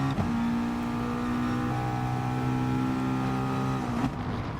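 A race car engine holds a steady high drone while lapping Laguna Seca in GT Sport, running on hard tires, with a sustained whine that shifts pitch slightly and drops briefly near the end as it shifts or lifts.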